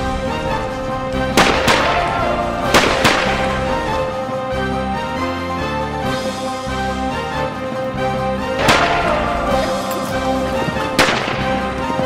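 Gunshots ring out in a western film, four loud sharp cracks spaced unevenly over a dramatic orchestral music bed.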